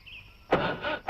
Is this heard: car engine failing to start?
yes